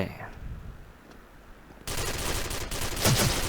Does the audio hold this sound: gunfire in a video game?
yes